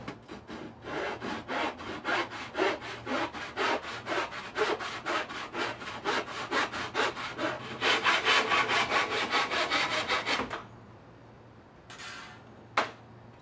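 A handsaw cuts a wooden board with slow, steady strokes, a regular rasping back-and-forth that grows a little louder and faster before stopping. Then comes a short pause and a single knock.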